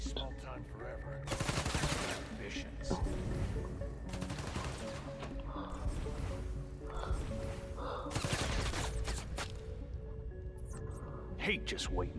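Rapid bursts of gunfire and automatic weapon fire from the video game Marvel's Spider-Man: Miles Morales, dense and loud over game music and effects, with voices talking over the shooting.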